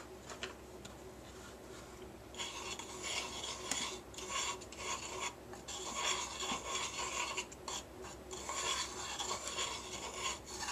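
Dry incense ingredients are mixed by hand for a Lammas incense, giving a steady gritty rasping and rubbing with small ticking scrapes, close and fairly quiet, with no talk.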